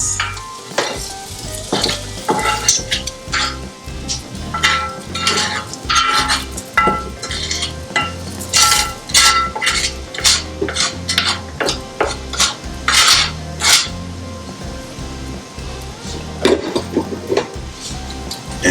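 Jambalaya rice with seared chicken stirred in a Dutch oven, with repeated scraping and clinking of a utensil against the pot over a steady sizzle, close and without talk.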